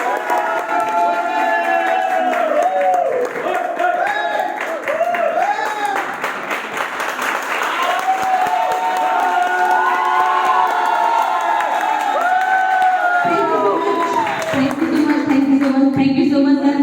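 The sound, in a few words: audience applause and cheering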